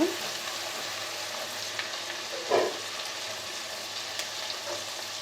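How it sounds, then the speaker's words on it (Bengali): Onions sautéing in a pan with cardamom pods, a piece of cinnamon, peppercorns and a bay leaf for biryani, giving a steady low sizzle with a brief louder stir midway. "এ পর্যায়ে আমি দিয়ে দেব চারটা এলাচ এক টুকরো দারচিনি কয়েকটা গোলমরিচ একটা তেজপাতা দিয়ে পেঁয়াজটার সাথে কষিয়ে নেব"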